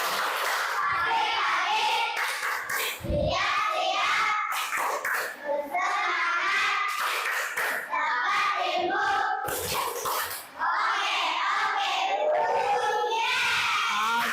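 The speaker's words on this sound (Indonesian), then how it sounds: "Kita tepuk semangat dulu pagi-pagi" Schoolchildren chant and shout a rhythmic class cheer with patterned clapping, led by a teacher, loud and close, with bursts of claps punctuating the group voices throughout.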